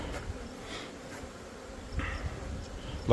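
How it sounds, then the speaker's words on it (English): A honeybee swarm hums and buzzes up close outdoors in a soft, continuous drone, with a few louder passes of single bees and light handling noise near the end. "look at all these bees. This is a decent sized swarm"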